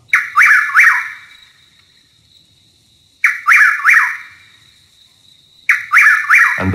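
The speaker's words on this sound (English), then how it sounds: "chuckwill's widow," Chuck-will's-widow calling in three separate bursts, each a quick run of two or three rapid whistled notes, loud and close with short ringing fades between, recorded alone without voices.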